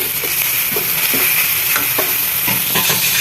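Onion and garlic sautéing in a pan, a constant close sizzle with rhythmic spatula scrapes and stirring taps every half second or so, loud and without speech.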